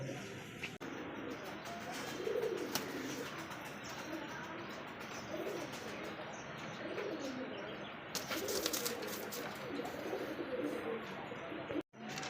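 A courting pair of light-coloured pigeons, the male cooing at the female, gives soft, rolling, throaty calls in repeated bursts, with faint chirps, brief wing flutters and a distant murmur of voices.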